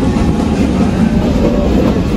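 A train runs along the rails on a morning journey in Bangladesh, heard from on board as a loud, continuous close rumble with no voices over it.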